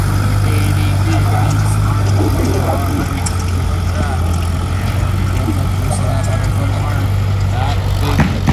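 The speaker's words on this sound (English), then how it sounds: "That big Corbin tractor just keeps pulling and pulling and pulling." Big Corbin antique tractor in the 5500-pound class at a fair tractor pull, its engine droning steadily and loudly under load for the whole stretch, with a constant low rumble and crowd or announcer noise mixed in.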